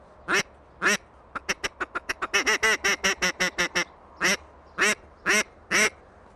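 A duck call blows single quacks: a few spaced ones, then a quick run of rapid quacks, then more evenly spaced single quacks, loud and alone.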